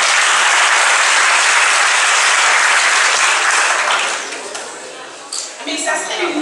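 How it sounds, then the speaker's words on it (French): Loud, dense applause from a university event audience in Saint-Louis, a steady wash of many hands that thins and fades out near the end as a voice begins. "des applaudissements pour notre..."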